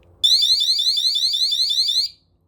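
Govee water sensor alarm sounding its audio check: a single loud, continuous high-pitched warbling beep lasting about two seconds, heard alone and close up, then cutting off.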